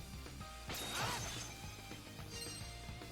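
Rising Slash sword skill in Ys VIII - Lacrimosa of Dana, a sharp whooshing slash with a crashing impact burst, then lighter game hits and clatter trailing off at moderate distance.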